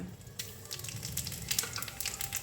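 Bay leaves and dried red chillies crackle and sizzle in hot mustard oil left over from frying fish, a steady hiss with sharp pops and spits scattered through it.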